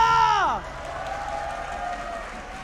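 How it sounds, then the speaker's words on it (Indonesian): Applause and cheering from an esports arena crowd at an IPL Arena match between RRQ Hoshi and Aura Fire swell in just as a loud announcer's voice cuts off, then hold as a steady, fairly loud roar. "mari kita ramaikan tepuk tangannya"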